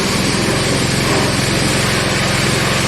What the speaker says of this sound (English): Sound like you keep wanting to die out.